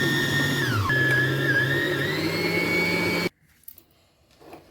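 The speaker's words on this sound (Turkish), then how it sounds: "Çırpıyoruz şimdi." An electric mixer whisks egg yolks with olive oil for a roll cake, a steady loud motor whine that dips in pitch once, then cuts off abruptly, leaving faint clinks.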